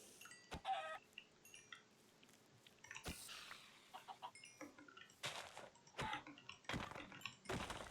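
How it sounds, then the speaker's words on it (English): Chickens cluck in the Minecraft video game, several short clucks and pops scattered across the stretch alongside thuds and other game noises, with no talk. "I also hear more chickens."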